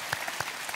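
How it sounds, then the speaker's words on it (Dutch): A studio audience on a Dutch TV show applauds in a short burst of dense, moderate clapping with no talk. "Dus kreeg ze applaus voor goed."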